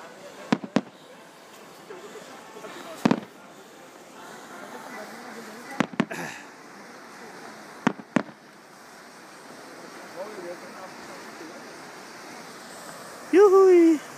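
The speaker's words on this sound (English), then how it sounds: "There was some fireworks." Fireworks burst at the Ojiya fireworks festival on a snowy night: sharp, isolated explosions go off every few seconds, some in quick pairs, over a low ambient hiss, ending with a brief rising whistle.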